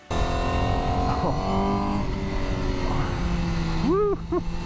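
A Honda CBR 1000 RRR SP sportbike runs at a steady high-revving engine note throughout, loud and close, with a couple of rising rev blips near the end.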